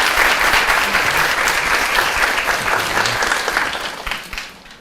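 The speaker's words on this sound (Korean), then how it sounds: "여러분 다시 한번 큰 박수 부탁드릴게요." Lecture audience at a CEO talk by Lenovo Korea's head applauds, a loud, dense burst of clapping that stays full for several seconds and then fades toward the end.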